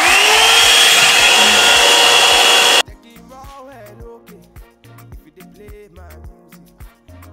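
An Amazon hot air brush runs on high heat with a loud, steady broadband whoosh for nearly three seconds, then cuts off abruptly, leaving quieter clicks and handling noises.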